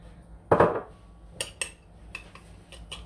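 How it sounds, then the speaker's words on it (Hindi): Egg and sugar being beaten with a utensil on a plate, a sharp scrape then a few light clinks and taps, close and fairly quiet. "इसको वो थोड़ा फेंट ले पहले"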